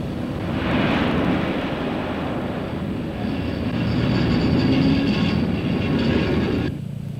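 An electric train hauling concrete from a mixing plant at the Hoover Dam construction site rumbles steadily and close by for several seconds, a broad continuous roar with faint higher rattling, then eases off near the end.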